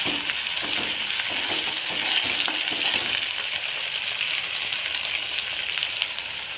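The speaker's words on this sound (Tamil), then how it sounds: "அதையும் நல்லா எண்ணெயில் டிக் பண்ணி நல்லா வேக விட்டுருங்க" Whole cumin, black pepper and coriander seeds frying in hot oil for a chutney, a steady close crackling sizzle that runs unbroken throughout with no voices.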